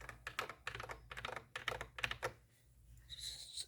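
Quick bursts of keystrokes on a custom keyboard fitted with tactile switches, crisp close clicks in short rhythmic clusters, then a pause and a softer tail, with no talking.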